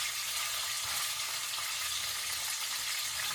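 Steak sears in a hot pan, a steady loud broadband sizzle and crackle of frying meat filling the whole moment, close and continuous with no voices.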